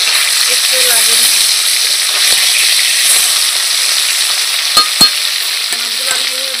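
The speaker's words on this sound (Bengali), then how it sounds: "মাছগুলো আমি এইভাবে ভাজা করে নেবো" Dhela and bhola fish fry in hot oil with loud, constant close sizzling, broken by a few brief clinks and light stirring sounds.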